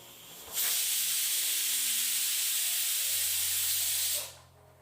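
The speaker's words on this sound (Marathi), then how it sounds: "आता या डाळींना तीन शिट्ट्या काढून घेऊयात कुकरच्या शिट्ट्या होईपर्यंत" A sharp, loud burst of hissing steam blasts for several seconds from a pressure cooker whistle while cooking dal, then cuts off abruptly.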